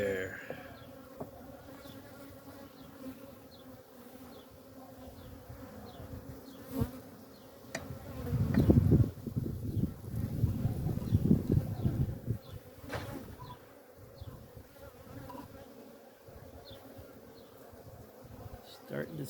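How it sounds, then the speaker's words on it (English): Honeybees buzz around a hive with a laying-worker colony, a faint steady drone of many insects that swells louder for a few seconds midway as bees pass close, then settles back. "Bees everywhere."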